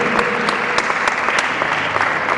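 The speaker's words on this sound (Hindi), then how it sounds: "ताली बजाइए सब" Audience clapping at a Jain religious ceremony at Shantisagar Dham, loud and close, with a dense steady patter of hands and a few sharper individual claps standing out.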